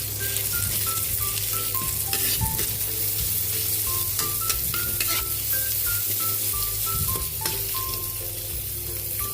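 Onion sizzles loudly in a frying pan with garlic for chicken adobo, a dense continuous frying hiss with occasional stirring scrapes, while a faint melodic tone plays softly in the background.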